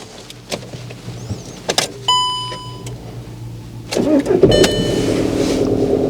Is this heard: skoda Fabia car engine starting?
yes